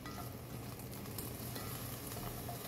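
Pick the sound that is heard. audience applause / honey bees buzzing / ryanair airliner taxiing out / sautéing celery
sautéing celery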